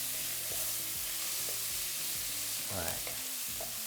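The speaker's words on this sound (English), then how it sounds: "So we're gonna fry this until we're kind of nice and brown on all sides." Rice paper roll filling fries and sizzles steadily in a pan with a soft, constant crackle, stirred with light clinks and scrapes, and a brief word is spoken.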